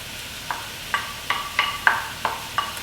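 Chicken, mushrooms and ham hock stirred around a frying pan, a spoon scraping in a steady series of soft strokes roughly every third of a second over a light background sizzle.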